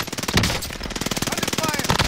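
Rapid bursts of automatic gunfire in a battle-royale video game, a dense rattling stream of shots lasting about two seconds, loud and close with brief voice chatter mixed in.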